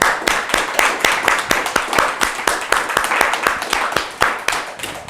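A church congregation claps together during a Christmas Sunday worship service, a loud, steady, rhythmic beat of many hands filling the room.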